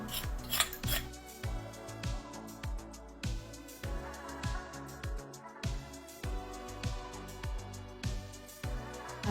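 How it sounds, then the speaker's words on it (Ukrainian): Legs threaded one by one onto a metal tripod stand for a pedicure dust extractor, repeated close scraping and gritty rubbing strokes in a steady rhythm with occasional small clacks, quiet and without talking. "Беремо основну частину і закручуємо кожну ніжку."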